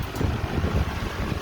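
Electric fan blowing air across bars of Irish Spring soap in a goat barn, a steady low whooshing rush with buffeting, continuous and close, no voices.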